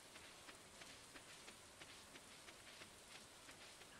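Rain falling on a farm in the video game Stardew Valley, a soft, even hiss of raindrops with faint regular ticks, quiet and uninterrupted, with a brief louder sound at the very end.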